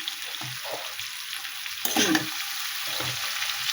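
Spices and vegetables fry in oil in a pan with turmeric, salt, coriander and cumin, a steady sizzle broken by soft scraping stirs and a louder burst of crackle midway, no voices.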